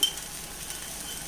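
Ghee drizzled onto a dosa cooking on a hot pan gives a soft, steady hiss of frying, close and even throughout, with no voices.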